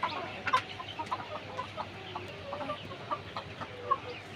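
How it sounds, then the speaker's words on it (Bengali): Layer hens in a hot poultry shed cluck and squawk in short, irregular bursts, a busy flock heard at moderate distance over a low steady fan-like hum. "অনেক গরম মুরগিগুলো ডিম পেরেছে আজকে এগুলো"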